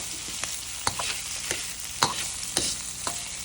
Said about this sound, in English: You're gonna add the meat to the wok.